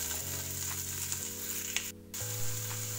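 Onions hit hot olive oil with garlic in a big pot, giving a steady close sizzle over a low hum, with a faint clink or two and no talk.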